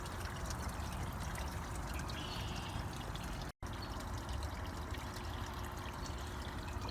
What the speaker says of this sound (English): The water should be pumping right now.